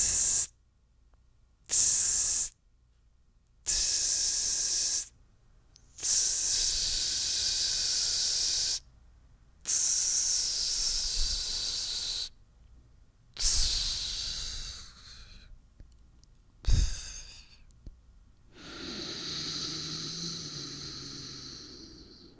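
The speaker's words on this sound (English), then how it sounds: "I used intermittent pauses on the inhale and on the exhale" A Zen breathing exercise: a series of close, loud, hissing breaths broken by short silent pauses, with the later breaths softer and more ragged.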